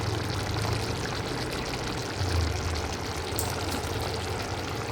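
Water poured from a small glass into mutton curry cooking in a pan, a soft, continuous splashing pour at low level, steady for a few seconds without talk.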